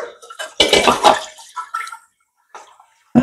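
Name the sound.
water being poured into a cooking vessel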